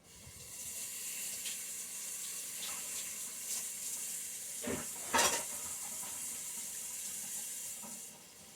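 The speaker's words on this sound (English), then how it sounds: "Let me wash my hands." Tap water runs steadily into a sink as hands are washed, a continuous close splashing rush with a couple of louder splashes near the middle before it cuts off.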